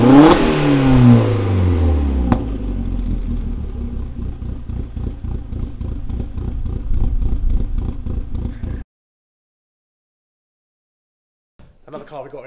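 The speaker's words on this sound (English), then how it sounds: "Okay Josh, if you want to give us a couple of little blips please." In a workshop, a car engine with lumpy cams is blipped sharply, a loud rev at the start that falls back to an uneven, pulsing idle. It then cuts off into silence, and a voice speaks near the end.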